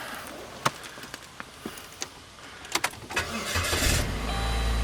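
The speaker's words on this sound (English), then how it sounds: "we just want to start the car" A Saturn Ion car: a few scattered clicks and knocks come first, then the engine cranks, catches, and settles into a steady, fairly close idle.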